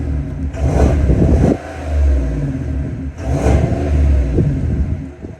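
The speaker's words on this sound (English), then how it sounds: "The quad exhaust over on the Suburban." A Chevrolet Suburban's large engine revs twice through a deep quad exhaust, each rumbling burst rising then dropping back to a low idle between.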